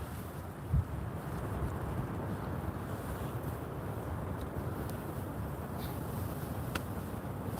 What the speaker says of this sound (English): You can see how windy it is out there.